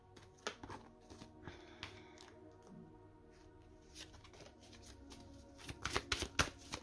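Tarot cards being shuffled by hand, soft riffling and sliding close by, with a louder burst of rapid card flicks near the end; no talking.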